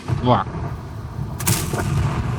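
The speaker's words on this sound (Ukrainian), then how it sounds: "Намагається влучити по нас арта" Artillery fire in a tank video game with the EBR-105 gives one sharp, close blast midway through, while the game plays underneath and someone talks.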